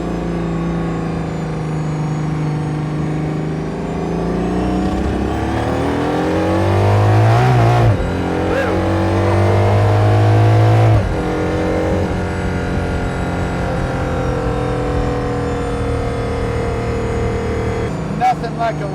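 Valkyrie Spider supercar driving on a snowy freeway, its engine loud and sustained with rising and falling revs, a stronger surge partway through, with a voice talking at times over the engine.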